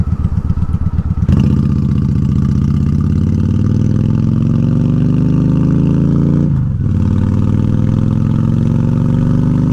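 A Honda Shadow ACE 750 motorcycle engine rumbles loud and close with a thumping idle, then revs up and pulls away, pitch rising steadily as it accelerates, dipping briefly at a gear change before climbing again, with no talk.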